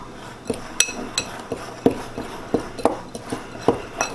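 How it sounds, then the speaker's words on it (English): Flour, salt and baking powder being stirred together in a bowl for brownie batter, giving a string of light irregular clinks and taps of a utensil against the bowl, close and fairly quiet, with no talking. "take your flour, salt, and baking powder and mix them together in a bowl"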